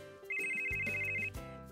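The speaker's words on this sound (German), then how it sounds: "Dann klingelt plötzlich ihr Handy." A mobile phone's ringtone plays a short electronic melody of bright repeating tones over a soft musical background, loud and close, with no talking.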